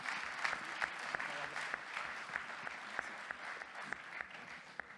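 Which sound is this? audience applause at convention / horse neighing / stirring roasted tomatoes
audience applause at convention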